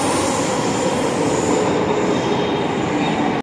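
A Delhi Metro train rolls slowly, giving a steady loud rumble of wheels on rail with a faint high squeal, heard continuously from inside the carriage until it cuts off abruptly.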